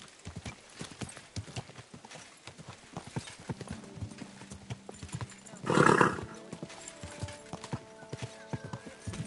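Rapid hoofbeats clatter in a quick galloping rhythm in the video game Kingdom Come: Deliverance 2, with a brief loud horse whinny midway and faint tones in the background.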